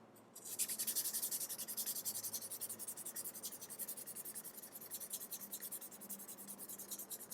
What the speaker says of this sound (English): I will proceed on to using the rough piece of sandpaper again